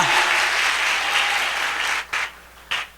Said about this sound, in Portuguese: Foi para eles esse aplauso.